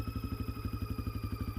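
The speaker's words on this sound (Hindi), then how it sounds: "उसने पूरी ताकत से एक्सीलेटर घुमा दिया। बाइक हवा से बातें करने लगी।" A motorcycle engine revving hard as a sound effect in a horror animation, a fast, pulsing low throb that repeats evenly and loudly, with steady high whining tones layered over it.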